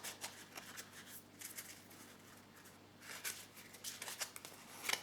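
Cards from an elf oracle deck are shuffled and drawn, quiet papery riffles and flicks in short bursts, faint and close.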